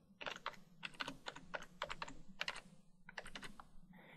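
Close computer keyboard typing in quick bursts of crisp key clicks, with short pauses between groups of keystrokes and no speech.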